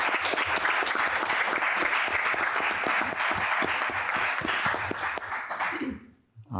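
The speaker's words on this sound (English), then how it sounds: "give him a round of applause and thank him for his years of service" A room of people applauds at a town plan commission meeting, steady dense clapping for about five seconds before tapering off and falling quiet.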